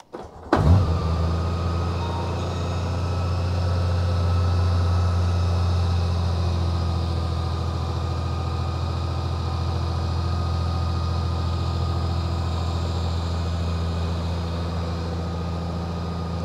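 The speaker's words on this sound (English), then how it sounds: "Next, let's talk about the sound of this bike." A motorcycle engine idles close by with a smooth, even hum and no voices, starting with a brief clunk before settling into a constant drone.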